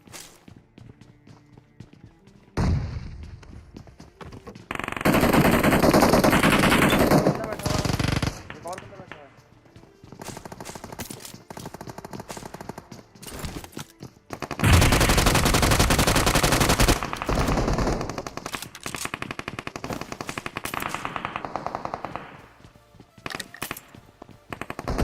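Bursts of automatic gunfire and single shots ring out in a battle royale video game, loud rapid volleys separated by quieter stretches with footsteps, while someone talks over much of the action.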